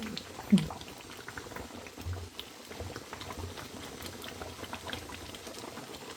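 Beef caldereta broth simmering and reducing in a pot, a soft continuous bubbling patter with small pops, faint and close.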